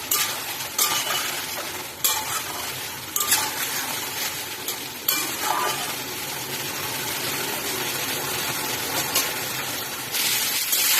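Spice paste stir-fried with potatoes and pre-fried papaya for an egg curry, a dense, continuous sizzle close up, broken by a few sharp spatula scrapes against the pan; no voices.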